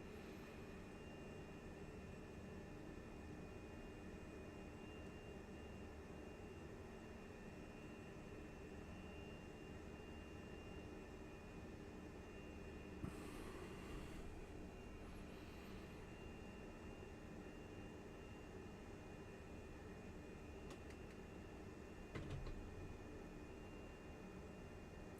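Fenix A320 airliner engines in Microsoft Flight Simulator 2020 produce a steady, faint broadband jet roar with a constant whine, unchanging across the whole stretch apart from a couple of small clicks.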